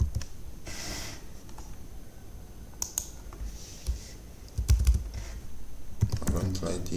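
Keyboard typing while entering code for an Arduino gas sensor alarm project, with bursts of clicky keystrokes at close range, mixed with soft breaths and light handling noise.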